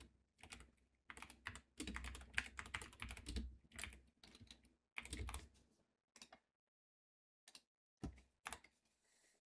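Typing on a computer keyboard while entering a command into a Kali Linux terminal, heard as close bursts of rapid key clicks separated by pauses and ending in a few isolated keystrokes.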